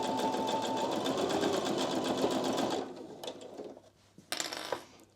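A sewing machine stitches a fabric scrunchie in a steady fast whirring run, then stops and gives a few short clicks and bursts, quiet and close.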